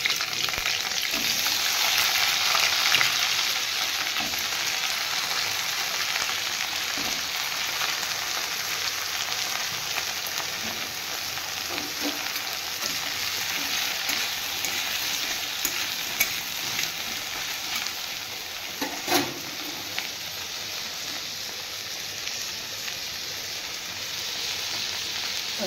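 Potatoes fry in a little oil for a potato dish, giving a steady, close sizzle that runs the whole time with occasional stirring scrapes and no voice.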